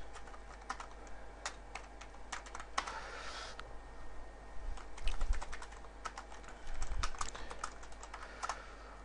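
Typing on a computer keyboard during router configuration, quick irregular key clicks in bursts across the whole stretch, fairly quiet and close, with no talking.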